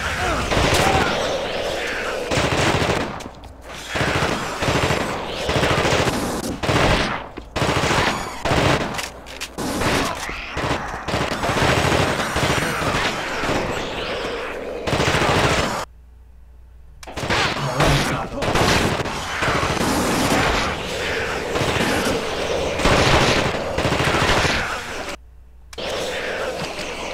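Sustained bursts of machine-gun fire from The Thing, a 2002 alien survival video game, rattle loudly and almost continuously with brief gaps, while a voice talks over parts of the shooting.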